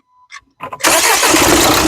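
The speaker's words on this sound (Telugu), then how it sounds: "మళ్ళీ ఒకసారి ఇంజన్ స్టార్ట్ చేసి చూపిస్తా స్టార్ట్" A few faint clicks and a short cranking sound, then a 2014 Nissan Terrano XV engine catches and settles into a steady, loud idle.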